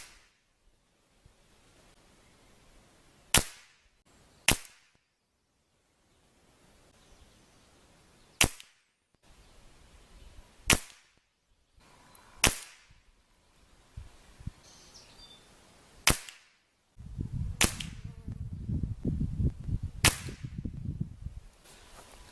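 Benjamin Maximus PCP air rifle firing pellets at a 20-yard target: about eight sharp, loud cracks spaced a second or more apart in a quiet setting, with rustling handling noise near the end.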